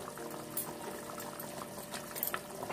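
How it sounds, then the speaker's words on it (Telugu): Tamarind juice boiling in a pot for a fish curry, a soft continuous bubbling simmer with small pops and faint sputters throughout. "ఈ చింతపండు కంప్లీట్గా బాయిల్ అయిన తర్వాత మనం ముక్కలను వేసుకుందాం."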